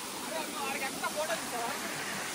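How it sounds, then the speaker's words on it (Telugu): Steady broadband rush of falling water from Paalakondalu waterfall in Kadapa fills the whole stretch, a constant roar without pause. "సాధించే వాటర్ ఫాల్స్"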